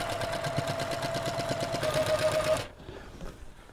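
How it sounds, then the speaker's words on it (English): An electric sewing machine stitches fabric, a rapid rhythmic whirring and clatter with a steady tone that runs for a few seconds before stopping abruptly, close and alone. "I like to back tack at the edge and then just start sewing the next side."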